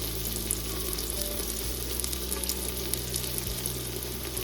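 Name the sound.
frying sizzle while cooking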